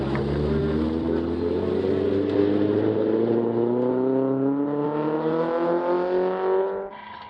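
Volkswagen Bug race car on the road to the Baja 1000, its engine revving and climbing steadily in pitch under load, loud and close, then easing off abruptly near the end.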